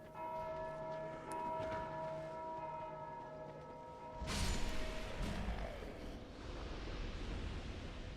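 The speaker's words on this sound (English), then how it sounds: "you're constantly ringing a bell" A bell in Dark Souls 2 rings with sustained metallic tones, then a loud rushing whoosh cuts in about midway and fades over a dull low rumble, with no voices.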